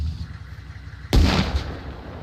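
A sudden loud burst of gunfire in an Arma Reforger battle, sharp and booming, cutting in after a quiet stretch and trailing off with a lingering echo.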